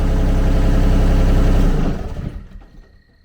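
Kubota D1105 diesel engine on a Kymron XTL30 idling, a loud steady rattling chug that drops in speed and fades as it winds down.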